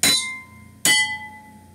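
Two separate taps on coloured glasses holding water, pink or red and green, each giving a bright clink that rings on and slowly fades, close and clear.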